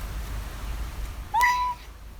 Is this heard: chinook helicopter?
no